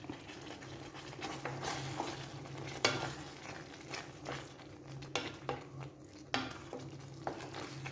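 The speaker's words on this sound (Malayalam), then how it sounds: "ഇനി നമുക്ക് കറിവേപ്പിലയും കൂടെ ഇട്ട് കൊടുക്കാം." Curry leaves drop into a thick simmering poori masala curry, giving a steady sizzle with scraping, clinking spoon stirs against the pan, recurring in bursts without any voices.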